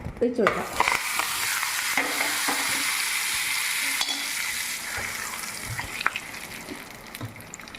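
A loud, steady sizzle as hot tempering oil is poured into a raw mango curry, crackling and hissing for several seconds, with occasional clinks and stirring sounds.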